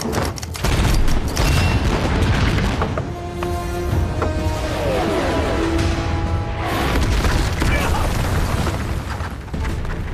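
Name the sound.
rocket artillery bombardment explosions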